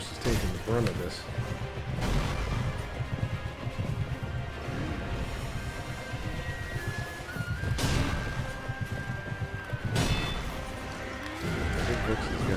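A horse whinnies and neighs with hoofbeats clip-clopping during combat in the video game Sekiro: Shadows Die Twice, set against a dense game score and impact sounds, with someone talking over it.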